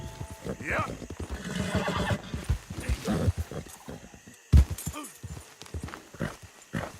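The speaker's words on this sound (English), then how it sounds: "Calm down, horse." Horse in the video game Red Dead Redemption II whinnies loudly near the start, then hooves clip-clop unevenly through the rest, with someone talking over the game sounds.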